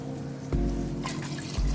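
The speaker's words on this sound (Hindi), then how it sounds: "अब हम इसमें पानी डालेंगे जितने हमारे चावल हैं।" Water poured into tomato gravy in a cooking pot, a gushing splash with bubbling and a second pour near the end, fairly loud and close.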